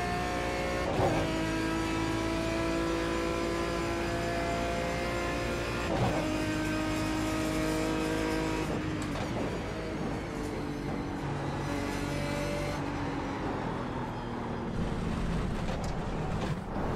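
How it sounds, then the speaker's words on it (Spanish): Car engine in a sim racing video game: a steady loud engine drone with rising revs, sweeping up in pitch and dropping back with each gear change, with no talking. "¿Cómo suena este coche, colega?"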